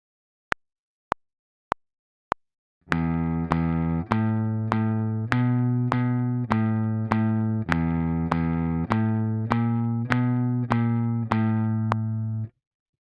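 After four sharp clicks counting in, a guitar picks a simple single-note melody, one note at a time at a steady, even pace.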